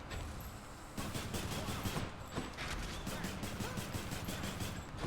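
Rapid bursts of gunfire from a weapon in the action game Hades, crackling repeatedly in quick rhythmic volleys over game music and effects, fairly loud and continuous after a brief quieter start.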